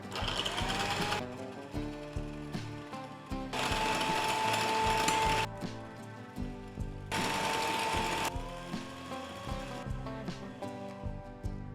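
An electric mixer beats eggs and sugar for madeleines with a loud, close mechanical whir that surges in three long bursts, easing to a lower rattling drone between them, with no talking.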